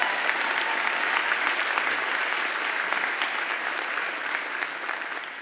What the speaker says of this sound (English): you can clap for that, that's a good thing